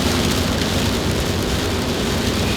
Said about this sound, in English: Don't you just love dark, windy mountain roads in the pouring rain?